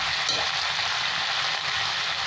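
Spices with vegetables, salt, turmeric, cumin, coriander and Kashmiri chilli powder, frying in a pan, a dense continuous sizzle with faint stirring, close and steady, no voices.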